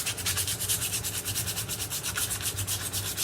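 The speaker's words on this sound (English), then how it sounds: "Use the sandpaper." Steady rhythmic back-and-forth scratching of sandpaper cleaning the flywheel of an old generator that sat unused for years, close and even-paced with no talking.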